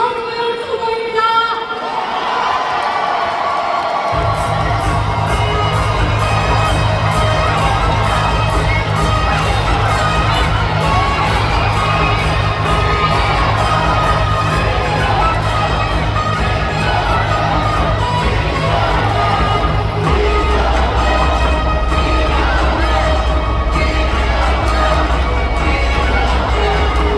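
A large convention-hall crowd at a Democratic Party national convention in Daejeon cheers and applauds candidate No. 6, Lee Seong-yun, in a loud, dense, sustained roar that continues throughout.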